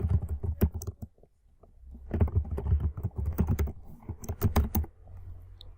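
Rapid clacking keystrokes on a computer keyboard while code is typed, arriving in bursts with a short pause near the middle, close and fairly loud, with no talking.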